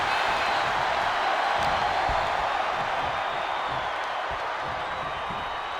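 Arena crowd noise from a WWE 2K25 Undertaker versus Sami casket match: a steady, loud wash of cheering and roar that holds for the whole stretch with no one speaking.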